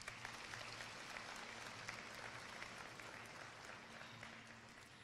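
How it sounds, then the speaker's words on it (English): Applause from a high school graduation crowd, steady and continuous but faint and distant, a wash of many hands clapping with no voices standing out. "Give yourselves a big round of applause."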